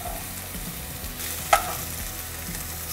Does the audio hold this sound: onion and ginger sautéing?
yes